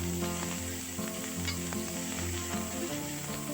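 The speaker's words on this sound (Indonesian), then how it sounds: "masukkan wortel, tumis sampai layu" Carrots stir-fry with fragrant ground garlic in a pan, producing a loud, continuous sizzle with faint stirring under a steady tonal hum; no voices.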